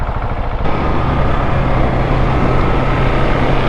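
KTM 690 SMCR supermoto single-cylinder engine accelerating hard, a loud, steady close-up drone with a low harmonic hum that surges in after a brief quieter moment and holds strong to the end.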